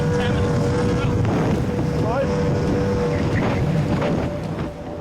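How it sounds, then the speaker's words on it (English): A Howth D-class lifeboat running flat out at its 25-knot top speed in a northwesterly breeze, with a loud, steady roar of engine, hull and wind rushing past the microphone that eases slightly at the end. "The Howth team pushed their D-class lifeboat to its top speed of 25 knots."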